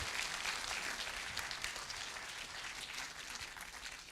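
A large room at a BPA annual general meeting fills with steady applause for the sponsors, dense even clapping from a crowd that holds at a constant level throughout the short stretch.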